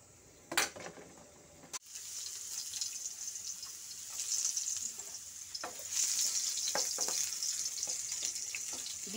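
Green beans sautéing in a home kitchen pan, a steady sizzle and fry hiss with occasional stirring clatter, close and continuous after a brief sharp knock near the start.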